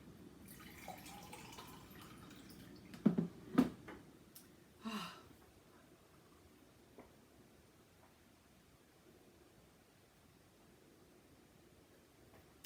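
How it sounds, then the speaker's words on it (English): Someone drinks water indoors, giving three or four short, close sips or gulps clustered in the middle, then near silence. "I'm going to have to drink some water here"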